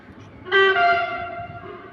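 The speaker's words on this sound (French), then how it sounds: "Donc là, passage d'un train, on est au bord d'une voie SNCF." An SNCF train sounding a short, loud horn blast beside the railway track, the tone sustained for about a second before fading, over faint outdoor background noise.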